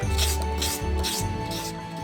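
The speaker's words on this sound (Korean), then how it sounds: "표면은 사포로 깔끔히 정리합니다." Sandpaper rubbed across a hardened resin surface makes close, rhythmic rasping strokes, about four back-and-forth passes with brief pauses between them.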